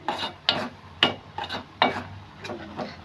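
Maggi noodles with egg for a Maggi omelette are stirred in a pan. About six or seven distinct scraping strokes come at a steady rhythm, close and clear, over a faint sizzle.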